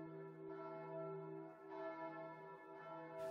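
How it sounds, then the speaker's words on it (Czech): Church bells ring in the low belfry of the Svatá Hora pilgrimage site in Příbram, where eight bells hang on original timber framing; sustained overlapping tones hum steadily with fresh strikes renewing the sound, heard alone without voices. "Ve zvonici je zavěšeno 8 zvonů na původním trámoví."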